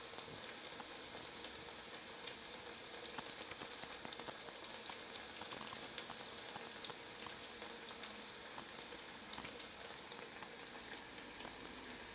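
Carrot and potato cutlets fry in hot oil, giving a constant faint sizzle with scattered tiny crackles and pops that run evenly throughout.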